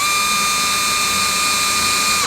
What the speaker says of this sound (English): I'm going to put a hole here and drive a screw in